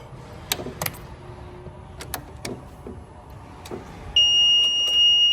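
An IMER Gerris 800 machine starts up with scattered clicks and knocks, then settles into a steady, fairly loud electronic beep tone for the final second.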